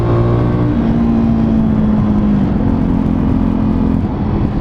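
Fantic Caballero Flat Track motorcycle pulls hard and close under throttle, its engine a loud, steady drone with shifting pitch as it accelerates, with wind roar underneath and no talking.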